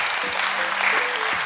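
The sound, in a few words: audience applause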